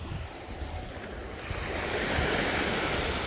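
Sea waves wash onto a crowded beach in Turkey behind a breakwater, a steady rushing surf with wind buffeting the microphone, growing a little louder toward the end.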